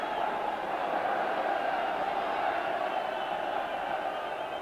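A Bulgarian football crowd at a stadium keeps up a steady, dense roar of cheering and chanting on a wet, miserable evening, distant and unbroken throughout with no single voice standing out.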